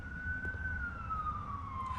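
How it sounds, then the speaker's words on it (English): A faint siren wails steadily in the distance, its tone slowly falling as it passes by. "Sorry, we had sirens going past."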